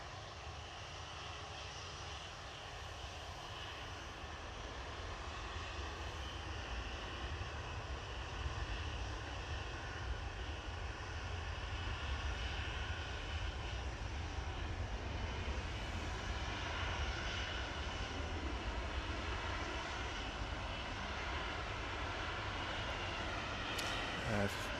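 Ryanair jet airliner at Manchester Airport, a distant, steady engine roar that slowly builds over the span, with people talking faintly underneath.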